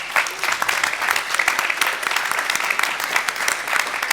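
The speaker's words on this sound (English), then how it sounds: "one more round of applause for our sponsors here today" A conference audience claps for the event sponsors at a cybersecurity panel, dense and steady applause from a sizeable crowd that carries on throughout.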